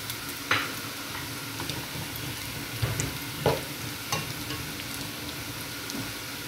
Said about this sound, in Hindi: जिंजर गार्लिक ऐड करने के बाद हमने इसी में ही ज़ीरा को जो है वो ऐड करना है और फिर फ्राई कर लेना है